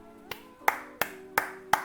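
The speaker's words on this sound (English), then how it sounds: "Let's all clap for Mohammad Shami" Five sharp, evenly spaced hand claps, close and on their own, given in tribute to cricketer Mohammad Shami.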